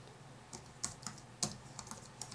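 Someone types a toolbox name on a computer keyboard, a handful of sharp, fairly quiet key clicks spaced irregularly over a faint steady hum, with no talking.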